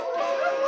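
Cartoon dogs let out a loud, sustained howling chorus of layered wavering tones that swell over a brief stretch, with no speech.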